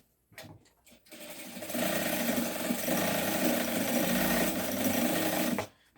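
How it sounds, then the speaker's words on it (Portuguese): Sewing machine stitching a padded, semi-reinforced nylon bag strap: a few short starts, then a steady, loud, continuous mechanical whir lasting several seconds before stopping. "Costura bem no pezinho dela."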